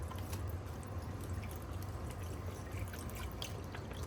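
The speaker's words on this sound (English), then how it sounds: "Now we're going to cover them in chicken broth and we're going to just let them cook." Chicken broth pours steadily over squirrel meat in a cooking pot, a continuous close splashing and trickling wash of liquid with no pauses.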